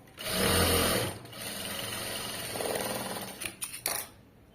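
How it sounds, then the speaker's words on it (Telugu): A sewing machine stitches cloth in several runs, first a loud, steady burst, then a longer softer stretch and a few short stop-start pulses at the end, with no speech. "ఇలా ఓపెన్ చేసేసుకుని నీట్గా స్టిచ్ చేసుకుంటూ వచ్చేయాలి ఇలాగా"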